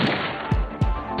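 Gunshots fired at a rabbit in a TV drama scene, with two distinct short thumping reports about a quarter second apart over a steady outdoor background hiss.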